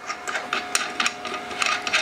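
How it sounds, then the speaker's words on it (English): A resin vat being set back into an ELEGOO Mars 3 4K resin printer: a series of close, light plastic-and-metal knocks and short scrapes at an uneven pace. "We're going to put our vat back."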